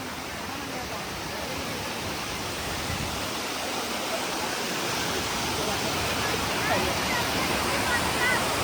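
Adai village waterfall in Panvel crowded with weekend visitors: a continuous close rush of falling water fills the scene, while faint voices of people murmur beneath the roar.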